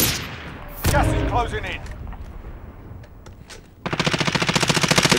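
Automatic gunfire in Call of Duty: Warzone, a fast even burst of shots that opens loudly near the end after quieter game sounds, with players talking over the action.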